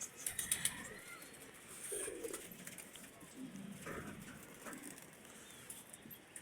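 Pigeons give soft low coos in short bursts, fairly faint against a quiet background, with some brief brighter chirps and rustling early on.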